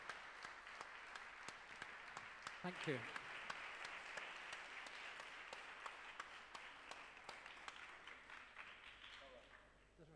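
Sustained audience applause fills a hall after a literary festival talk with an author, steady dense clapping with a few sharper claps, a brief spoken thanks over it, fading near the end.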